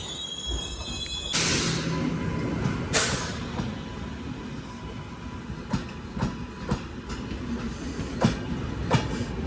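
The Konark Express, a Mumbai–Bhubaneswar passenger train, rumbles past nearby with a steady roar and repeated clattering wheel clicks over rail joints.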